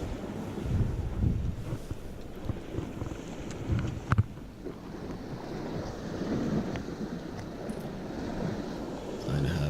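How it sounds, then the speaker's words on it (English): Waves wash in against the rocky shore at Kvassheim Lighthouse on a November day, a steady rolling rumble mixed with wind buffeting the microphone, with occasional small knocks and a brief voice nearby. "Just have the waves crashing in"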